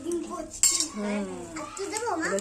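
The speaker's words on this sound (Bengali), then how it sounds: "এই দেখো আস্তে আস্তে একটু নাড়া দিই নয়তো আবার ডিম পোচটা উঠবে না" A spatula stirs an egg poach with chips in a small toy pan, giving a sharp metallic clink and light scraping, under a person talking.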